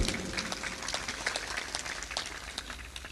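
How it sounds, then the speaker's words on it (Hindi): Weak, scattered applause from a satsang audience, faint and thin: a soft patter of light claps rather than a full, hearty ovation, continuing steadily throughout. "ऐसी मरी मराई ताली क्यों बजाते हो?"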